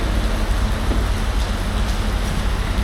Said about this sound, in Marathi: पावसाने सुरुवात केली आहे